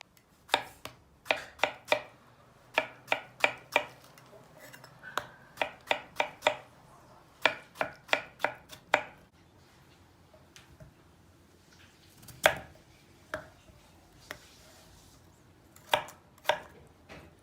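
A knife chopping potatoes into small cubes on a board, crisp close knocks in quick bursts of several strokes separated by brief pauses, with no talk over them.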